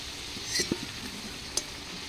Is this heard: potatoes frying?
yes